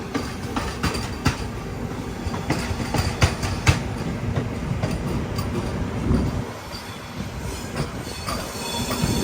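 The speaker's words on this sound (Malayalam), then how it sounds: "ജോലാർപേട്ട റെയിൽവേ സ്റ്റേഷനിലേക്ക് നമ്മുടെ ട്രെയിൻ ഇത് എത്തിക്കൊണ്ടിരിക്കുക." A train pulls into Jolarpettai railway station on an Ernakulam to Varanasi Patna Express journey, with loud continuous rumble and rattle of rolling carriages, steady wheel clatter, and repeated sharp squeals from the wheels throughout.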